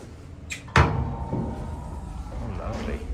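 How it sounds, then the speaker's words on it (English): Wooden cloakroom door in a restaurant swinging open and shut, a soft knock followed by a sharper thud as it closes, with dining-room murmur and faint voices around it. "Enjoying the wooden cloak door."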